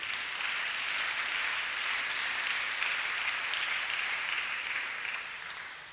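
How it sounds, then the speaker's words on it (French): During a Sunday church service, a congregation claps for newly baptized believers, a dense, continuous burst of applause from many hands that holds steady and then tapers slightly at the end. "vous pouvez acclamer pour eux"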